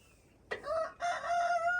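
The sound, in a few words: chickens, rooster or hen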